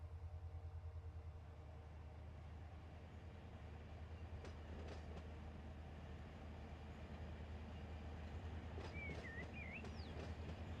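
A train in the Run 8 train simulator rumbles past with a deep, steady engine drone and rhythmic wheel clatter, continuous and fairly close, with a few sharp clicks and a brief squeal near the end.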